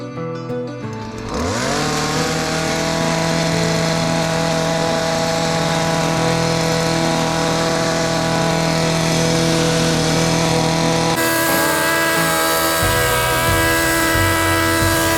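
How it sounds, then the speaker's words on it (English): A Stihl multi-attachment pole saw with its chainsaw attachment revs up and then runs loudly and steadily while clearing a trail through the woods, a close, continuous high engine whine. "I'm going to use my Stihl multi-attachment pole saw, and I'm going to use the Hedge clipper attachment as well as the chainsaw attachment"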